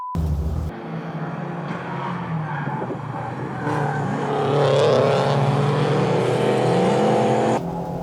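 Assetto Corsa race car engine roaring under load, with a scraping, skidding surge of tire noise after contact midway through, loud and continuous without speech.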